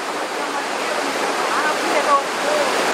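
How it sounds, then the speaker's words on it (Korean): A roaring mountain stream on Jirisan rushes in a dense, steady wash of water noise, loud and continuous throughout. "물소리는 우렁찹니다"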